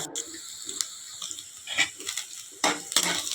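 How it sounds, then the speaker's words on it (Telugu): Shredded cabbage with green chilies stir-fried hotel style in a hot pan: a steady sizzle with scraping stirs and clinks, close and fairly loud, no talking. "ఇవి బాగా యాగనివ్వాలన్నమాట"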